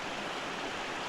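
A moorland stream and waterfalls on a Cornwood walk near Yealm Steps produce a steady, broadband rushing of flowing water, constant and fairly faint, with no voices.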